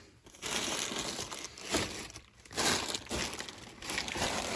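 Mortar bags dragged out from under old wheels in a cluttered storage area, continuous close crinkling and crushing of heavy paper sacks in several bursts with brief pauses.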